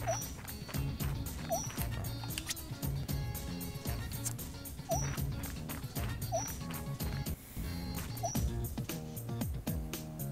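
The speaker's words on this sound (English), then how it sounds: "Is that a dog?" A Shiba dog barks in the game Raidou Kuzunoha: Devil Summoner, with short yips scattered over dense game music that plays throughout.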